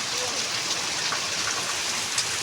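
Steady rain pours down in an outdoor setting, a dense unbroken hiss of drops on surfaces with no pauses.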